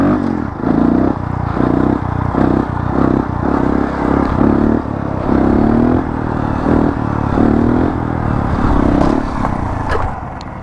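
Honda Grom motorcycle ridden toward a wheelie, its small engine buzzing loud and steady up close, with repeated rising revs and throttle pulses plus wind rumble throughout.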